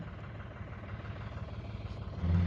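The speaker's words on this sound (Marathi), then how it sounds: "आणतो ट्रॅक्टर पुढं" A tractor engine running as it pulls forward, a low steady rumble heard at a distance that swells louder near the end.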